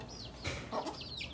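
A hen nesting in a backyard coop clucks softly a few times, close and faint, over a quiet background.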